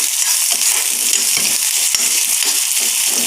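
Chopped small green chilli sautéing in a pan while a semiya upma is being prepared, giving a steady close sizzle with occasional soft clinks and scraping throughout.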